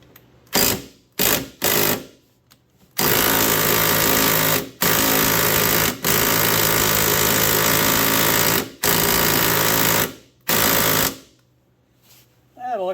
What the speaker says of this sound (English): That electric impact just doesn't have it.